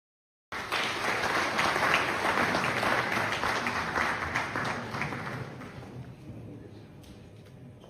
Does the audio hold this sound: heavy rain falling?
no